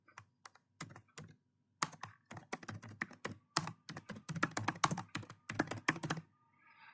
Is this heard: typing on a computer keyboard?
yes